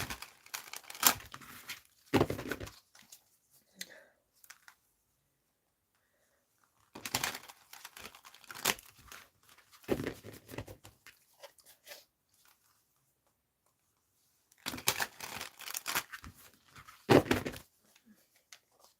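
Bursts of papery riffling and crisp flicking come in three separate rounds with quiet gaps between, close and fairly soft, like cards being shuffled.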